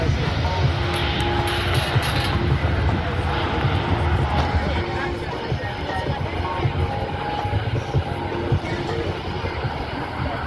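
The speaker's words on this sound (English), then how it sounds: "Taxiing just before you, the Blue Angels will momentarily be turning into the parking area." Blue Angels US Navy jets taxiing at the Wings Over Houston air show, a steady loud engine roar and whine sustained throughout, with crowd and announcer voices faintly underneath.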